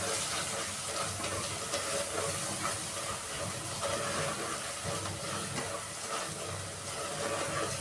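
Mutton frying with salt, red chili powder and turmeric in a pot for Hyderabadi tamatar gosht, a continuous loud hiss and sizzle that holds steady throughout, with no talk.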